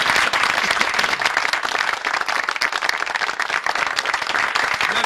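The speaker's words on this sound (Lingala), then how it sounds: "une fois de plus on acclame la chorale." An audience applauds a choir at a broadcast event, with dense, sustained clapping from many hands that fills the whole stretch at a steady level.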